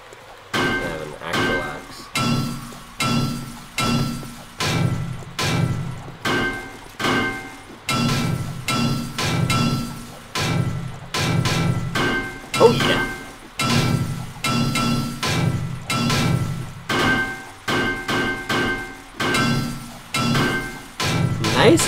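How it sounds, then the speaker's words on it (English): Claw hammer repeatedly striking a gun safe in the survival game 7 Days to Die, a steady run of loud metallic thuds and clinks about every second, with voices chatting over the blows. "Claw hammer is the way to go."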